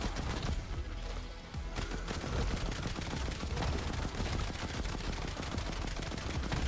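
Sidearm gunfire in a video game fills the whole clip, a dense, loud stream of rapid shots and explosive bursts with no pauses.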